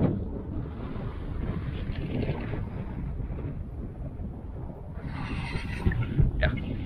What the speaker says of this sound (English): A lot of skies and shitty weather and windy as hell.